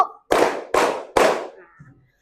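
A group of children in a classroom claps together in three sharp, evenly spaced bursts, loud and close, followed by a brief murmur.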